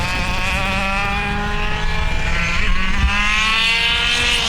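Race cars roar around a racetrack during the last laps of a 2019 shootout, high revving engines rising and falling in pitch as they pass close and loud, continuous with no talking.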